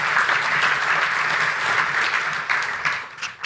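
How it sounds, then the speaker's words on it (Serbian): Sustained audience applause at a live talk-show event, a dense, steady wash of many hands clapping together that holds evenly before briefly dipping near the end. "Sad može aplauz."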